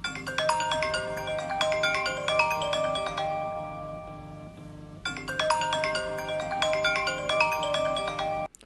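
A phone ringtone plays a bright, melodic tune loudly and close by. It runs as two repeated phrases separated by a short quiet gap.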